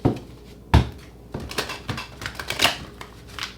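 A deck of tarot cards is shuffled by hand in a quiet room: a few sharp slaps and soft papery flutters arrive in short, uneven bursts, close and fairly quiet.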